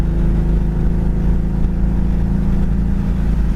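A 1967 Ford Mustang six-cylinder with headers and dual exhaust cruises down the road, a loud, steady, throaty exhaust drone with no talking.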